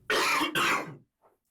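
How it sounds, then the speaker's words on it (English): Two harsh, close coughs from a person in quick succession, followed by a faint short sound after a brief pause. "now you're coughing a lot"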